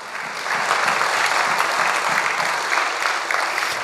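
A congregation at a church worship service in Providenciales applauds, a steady, fairly loud wash of many hands clapping that swells after the first half second and holds to the end.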